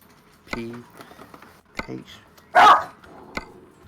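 A dog barks a few separate times, fairly close, during a voice chat over a Euro Truck Simulator 2 multiplayer session, with people talking around the barks and a loud burst in the middle.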